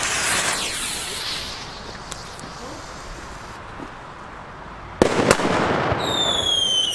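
A firecracker banger from the Comet Crash Boom Bang budget assortment bursts outdoors as one sharp, loud crack partway through, with a brief crackle trailing it over steady background hiss and faint voices.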